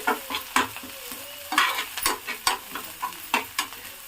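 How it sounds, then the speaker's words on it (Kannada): Mint and coriander leaves sautéed in a pan while a spatula stirs and scrapes, making a row of close, sharp clinks and scrapes over a soft sizzle, with no talking. "ಸ್ವಲ್ಪ ಪುದೀನ ಪುದೀನ ಸೊಪ್ಪನ್ನು ಕರ ಕೊತ್ತಂಬರಿ ಸೊಪ್ಪು ಹಾಕ್ಕೊಂಡು ಚೆನ್ನಾಗಿ ಬಾಡಿಸ್ಕೊತಾ ಇದ್ದೀನಿ"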